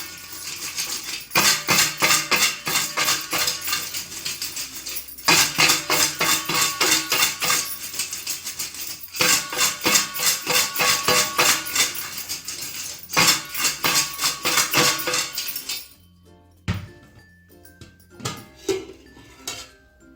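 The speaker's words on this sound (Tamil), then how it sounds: "இப்படி மூடி போட்டு மூடிட்டு நீங்கள் நல்லா குலுக்குங்க" Tapioca chips tossed with chili powder inside a lidded container, rattling and clattering in several loud bursts of shaking with short pauses between them, then lighter scattered clinks at the end.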